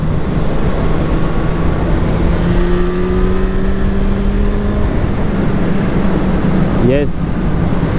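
Yamaha FZ6 motorcycle engine cruising on a motorway at around 6,000–7,000 rpm, a loud steady drone with wind rush and a brief chirping sound near the end.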